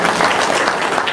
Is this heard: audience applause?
yes